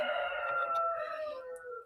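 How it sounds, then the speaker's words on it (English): A rooster crows outdoors in one long drawn-out call that fades gradually at the end, heard alone and at a moderate distance. "the roosters making an appearance"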